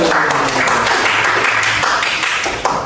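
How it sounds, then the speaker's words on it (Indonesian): A sixth-grade class applauds group 1 after their presentation, with loud, dense, steady clapping from many hands close by, filling the whole moment without a pause. "Tepuk tangan untuk kelompok 1."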